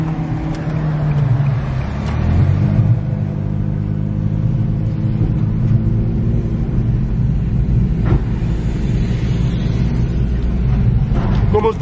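A big Chevrolet Impala's engine rumbles close by on Manchester street, a steady low growl running through the whole stretch with traffic noise around it.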